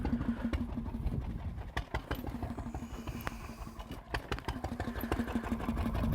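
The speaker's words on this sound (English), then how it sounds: "when you put a permanent load on it, then the engine speed will maintain a constant speed" A stationary engine at a steam rally runs steadily under a constant load, a close, even, low chugging beat with regular rhythmic pulses and no talking.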